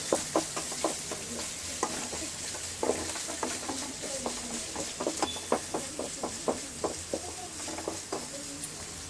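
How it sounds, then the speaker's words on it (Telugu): Semiya vermicelli fries in a pan until golden, giving a soft continuous sizzle broken by rhythmic scraping strokes of stirring, close and fairly quiet. "గోల్డెన్ కలర్ వచ్చేదాకా వేయించుకోవాలి."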